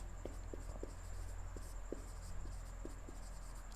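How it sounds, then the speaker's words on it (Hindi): Marker or chalk strokes tapping and scratching across a board as a chemistry definition is written, a series of short, soft, irregular ticks over steady low room hum with no talking. "तो मैं यहाँ पे डेफिनेशन लिख दे रहा हूँ।"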